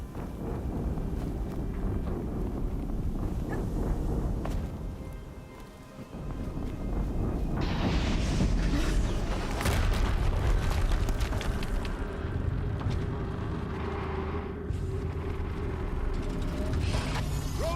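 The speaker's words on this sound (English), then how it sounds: "Another explosion." Explosions in the video game Horizon Zero Dawn: a sustained roaring, rumbling blast with heavy low-end debris noise, dipping briefly midway before a second loud surge that churns on steadily to the end, with no talk.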